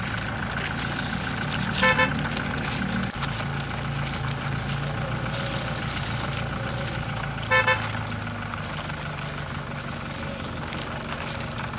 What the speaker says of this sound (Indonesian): Mesin kenterpen bekerja sedikit lebih keras.